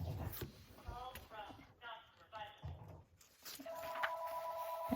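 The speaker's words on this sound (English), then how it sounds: "Oh, our phone's ringing." A home telephone rings in a quiet room during paper crafting at a desk, a steady electronic ring tone sounding over the last second or so, with a person talking nearby through most of the clip.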